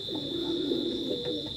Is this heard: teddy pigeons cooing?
yes